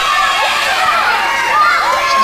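A wrestling crowd cheers and shouts in a loud, continuous, excited roar with high yells rising above it.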